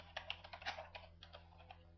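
Someone types a command on a computer keyboard at a Windows machine, a quick run of close, light key clicks with a soft electrical hum underneath and no talking.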